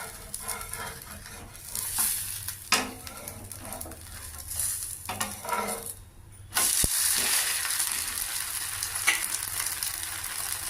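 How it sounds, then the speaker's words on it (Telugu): A wheat rava dosa fries on its second side on a hot pan, a steady sizzle that swells into a louder, continuous crackle partway through, with no talking. "దోశ కాలింది అదేవిధంగా రెండో వైపు కూడా మనం కాల్చుకోవాలి"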